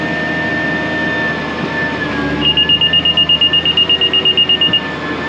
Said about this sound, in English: The monitor beeps whenever it's not putting the seed in the ground correctly